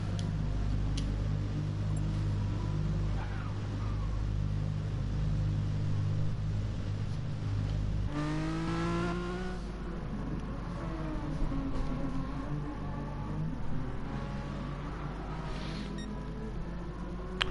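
Renault Mégane Trophy race cars pull out onto the Brands Hatch GP circuit, a steady engine drone at first, then rising revs and shifting tones as the cars move off.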